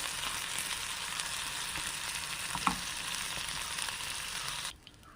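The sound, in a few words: pearl spot fish (karimeen) frying in a pan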